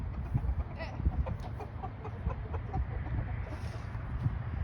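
Chickens cluck in a steady scatter of short, soft calls while eating, close by and fairly quiet, with no talk.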